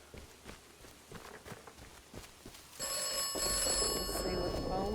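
A telephone rings in the video game Atomfall, a bright electronic trill that cuts in midway and holds steady after a stretch of soft scattered footsteps and ambient noise.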